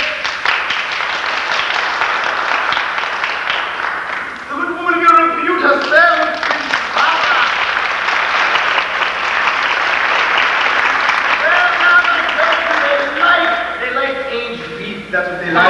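A theatre audience applauds during a stage musical performance, loud sustained clapping that swells and fades across the clip, with a voice and brief musical phrases heard over the crowd.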